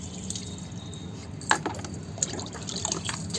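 Water is poured over a three-month-old baby boy during his bath, a soft, close trickling and splashing that runs steadily with a few brighter splashes and no voices.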